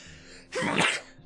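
A single loud, close sneeze with a short intake of breath before the sharp burst, set against quiet room background.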